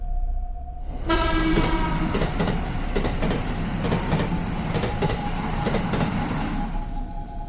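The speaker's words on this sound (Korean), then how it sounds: "막차가 들어오기 시작했습니다" The last train of the night pulls into an old railway station, a loud, steady rumble with rhythmic clacking of wheels on rails that rises quickly and continues without voices.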